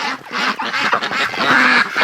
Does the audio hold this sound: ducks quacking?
yes